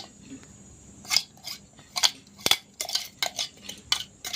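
Beetroot ground with a little water is pushed through a sieve into a bowl, giving a run of close, sharp metallic scrapes and clinks of a spoon against the mesh and bowl in irregular bursts.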